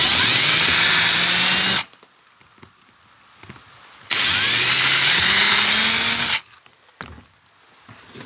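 A power drill boring holes in a rawhide dog chew sheath, two loud sustained runs of about two seconds each, the pitch rising as the bit speeds up, with quiet handling sounds between them.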